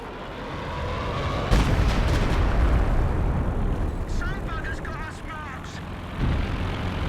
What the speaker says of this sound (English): This is like railway artillery, really.